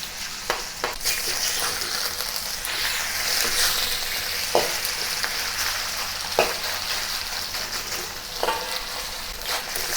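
Pork for a Chinese pork and pepper stir-fry sizzles steadily in a wok over high heat, with a loud continuous hiss and a few sharp clanks from stirring.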